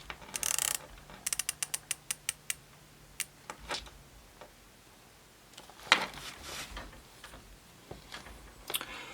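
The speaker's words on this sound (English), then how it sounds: "The bezel is also easy to grasp, nice and easy to turn." The unidirectional bezel of a Phoibos Reef Master automatic dive watch clicks as it is turned, a quick run of sharp ratcheting ticks up close followed by a few scattered clicks, in an otherwise quiet room.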